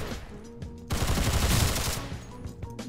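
A burst of rapid automatic gunfire in the Roblox game Criminality rattles out for about a second, framed by quieter scattered shots, with no talking.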